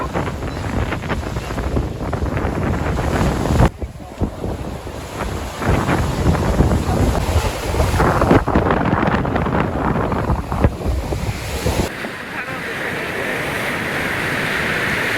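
Hurricane-force cyclone wind batters the microphone on the seaside at Gelendzhik, roaring in loud, continuous gusts with rough buffeting and a brief drop before surging again, while the stormy sea churns underneath.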